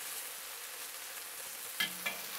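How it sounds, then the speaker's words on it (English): Beef stir-frying in a wok with oil, a quiet steady sizzle throughout, broken near the end by two short scraping clatters of the utensil against the pan. "Now I'm just going to stir fry it around"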